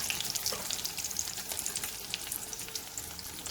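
Whole red chillies and curry leaves fry steadily in hot oil on a low flame, giving a continuous close sizzle with bright crackling pops throughout and no talk.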